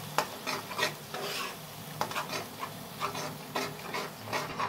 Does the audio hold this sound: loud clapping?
no